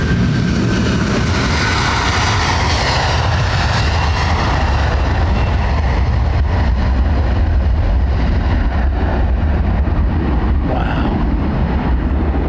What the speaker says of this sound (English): Feel the bass from those Trent 7s, man.